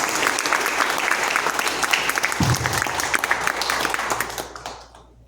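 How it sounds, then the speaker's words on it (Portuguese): An audience at a church book launch gives a sustained round of applause that swells and continues for about five seconds, then fades out. "Mas eu quero uma salva de palmas para ela."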